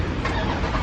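A warmed-up car with a straight-piped, catless exhaust fires up in a loud, rough, broadband burst, the brief start dense and raspy, recorded close with no talking.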